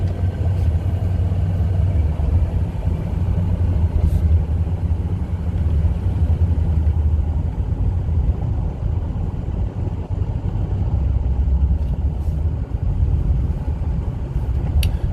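A 2007 Ford F-250 Lariat 4WD with the 6.0L Powerstroke diesel held at light throttle while driving, giving a steady low rumble that stays even and continuous throughout, with no one talking.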